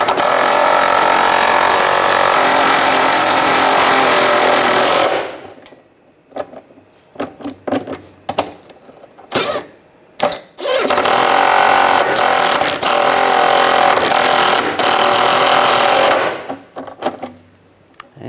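A power tool whirs steadily for several seconds while tightening catalytic converter bracket bolts on a 2004-2009 Toyota Prius, then stops, followed by sparse clanks and short handling noises before another sustained burst of tool noise.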